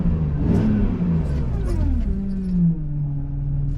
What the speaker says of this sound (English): Obviously, it hasn't ran in 5 years, so the loud lifters are expected.